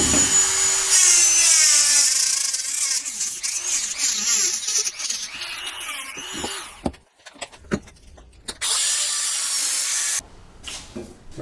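A welded stainless steel motorcycle exhaust part being polished by hand after TIG welding gives a steady, close, abrasive rubbing for several seconds, then breaks into short, irregular scrapes and pauses.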